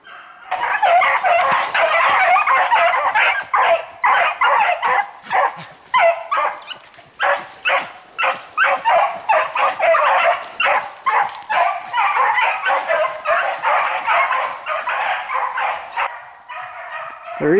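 Dogs bark repeatedly in quick bursts, fairly close and loud, with yips and whimpers mixed in over about seventeen seconds.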